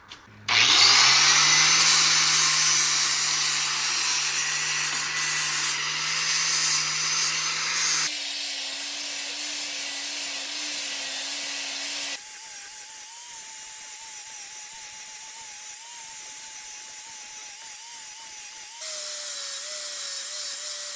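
A power grinder works on coil-over suspension parts during a UPR coil-over conversion kit install, a loud sustained whine that shifts pitch several times as the load changes, with no talking.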